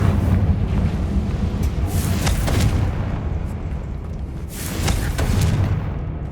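Confringo blasting spell exploding in Hogwarts Legacy: loud booming blasts with rumbling bursts, two main impacts a couple of seconds apart over a dense, continuous low roar.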